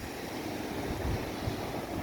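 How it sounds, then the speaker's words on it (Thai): Strong wind and rough sea waves along Laem Sing beach in Chanthaburi, Thailand, a constant low rumbling wash with gusty wind noise on the microphone and no talking. "เป็นทะเลเลยตอนนี้คลื่นลม แรงครับ"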